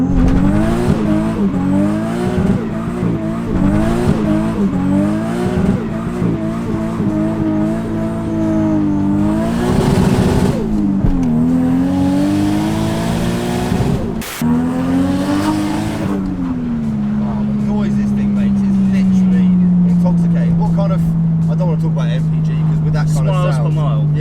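A Toyota Mark 2 JZX100 with a big single-turbo 1JZ does a burnout, the engine revving hard in rising and falling sweeps with tire squeal, ending in a sustained loud high-rev drone, while people talk over it nearby.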